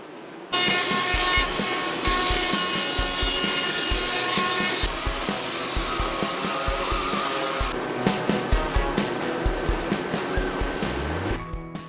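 A wooden board being ripped with a saw during an RV cooler build: a loud, continuous whining cut that runs steadily, then gives way to a series of quicker rasping strokes near the end.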